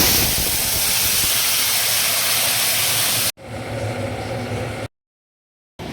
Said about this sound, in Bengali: তেলের উপরে দিলাম শুকনো লঙ্কা, রাঁধুনি, পাটের পাতা, তাড়কা লাগিয়ে দিলাম